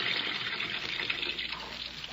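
Water pouring steadily into a half-full tub as a radio drama effect, a continuous hissing rush that stays even and fairly loud throughout with no break.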